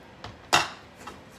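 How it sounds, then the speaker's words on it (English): A multi-purpose cooking pot is picked up from a kitchen counter, giving a couple of soft clunks and one sharper metallic knock, close and brief. "So I'm just going to grab our pot."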